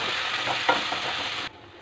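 Potato gravy with ground spice paste, salt and chilli is stirred in a pan, a short close scraping swish over soft sizzling that cuts off abruptly.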